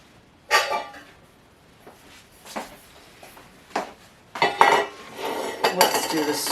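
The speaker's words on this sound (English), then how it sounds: "I am going to grab one of my smaller strainers here" Metal kitchen utensils clatter and clink as a small metal strainer is picked out from among them, several separate bursts of rattling close by with quiet gaps between.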